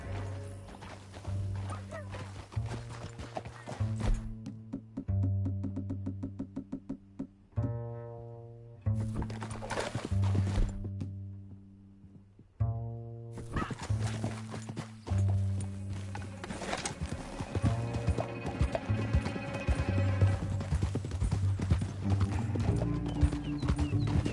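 Rhythmic horse hoofbeats clip-clop at a steady galloping pace in the video game Red Dead Redemption 2, loud and close, with brief gaps and music-like tones layered over them.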